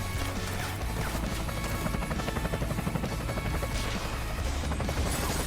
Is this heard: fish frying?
no